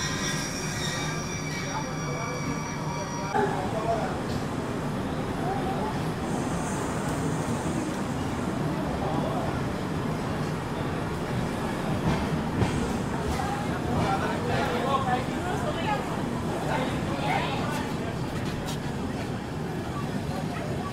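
A Humsafar Express passenger train runs on rails near Sagar railway station, giving a continuous loud rumble of wheels on track with metallic squeals and clatter for the whole stretch. Background noise from the moving train stays constant throughout.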